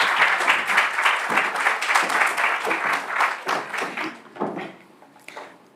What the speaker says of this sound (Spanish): Recibamos con un bonito aplauso a la doctora Yolanda Buch.